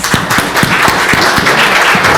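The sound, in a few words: audience applause for a panel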